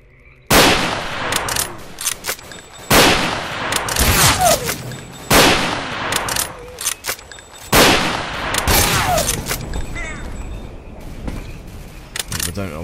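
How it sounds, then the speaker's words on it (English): Automatic gunfire from S.T.A.L.K.E.R.: Call Of Pripyat comes in repeated loud bursts, each a sharp attack trailing into ringing reverb, with several volleys spaced a couple of seconds apart. "every Tom, Dick, and Harry is fucking shooting me right now with these zombie guys or something"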